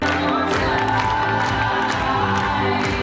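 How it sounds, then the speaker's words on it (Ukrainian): A theatre audience giving a standing ovation after a play, with sustained loud clapping mixed with cheers and shouts over a steady musical backdrop. "Вітають оплесками стоячи"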